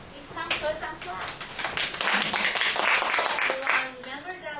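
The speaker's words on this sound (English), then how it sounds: "Give some clap." A small classroom audience claps, a dense patter of hand claps building and then tapering off, with voices talking over it.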